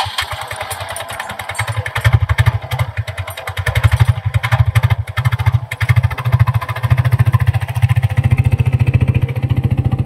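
Motorbike engine with damaged rollers running noisily, a steady loud low rattling drone that pulses rapidly and grows heavier after the first couple of seconds, with no voices.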